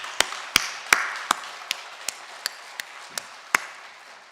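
Clapping in a church congregation for the women's mission society, sounding as about ten sharp, evenly spaced claps, crisp and close against a quiet background.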